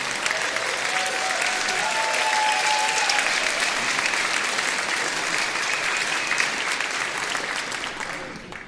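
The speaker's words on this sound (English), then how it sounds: "Give it a nice round of applause." Sustained audience applause after a community band performance, a broad, even wash of clapping that holds steady and loud before easing slightly at the end.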